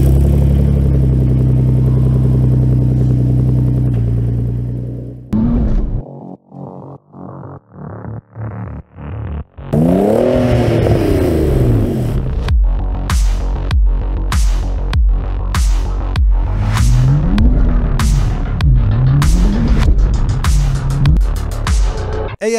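Nissan 370Z sleeper with a twin-turbo setup on a stock engine, making about 580 at the wheels: a steady loud drone, then a run of sharp rising blips, then long revs climbing and falling with repeated throttle bursts.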